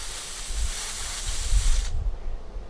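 Steam hisses loudly and steadily from a steamer held against a pressed cane chair seat to loosen its spline, then cuts off sharply, leaving only faint low rumbling.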